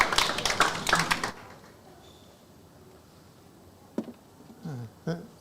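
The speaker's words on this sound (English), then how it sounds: "please have a round of applause" A lecture audience claps for roughly a second and the applause quickly dies away, leaving a quiet room where a few soft taps and the start of a speaking voice can be heard.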